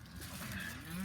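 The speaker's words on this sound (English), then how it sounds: "the neighbor's cows are coming over here wanting to talk with me" Neighboring farm cows moo loudly and close by, a long drawn-out low call rising in pitch, with no talking.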